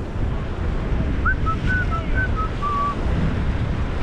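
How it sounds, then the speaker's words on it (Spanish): Wind rushes in a steady, loud roar across the microphone on San Lorenzo beach, with surf behind it and a faint whistling tone drifting through the middle. "Mira, aquí se aprecia un poquito el viento, ¿eh?"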